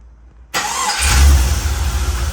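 A hotwired car with an LS V8 cranks and fires abruptly out of silence, catching with a loud deep roar that settles into a rough, pulsing idle close by.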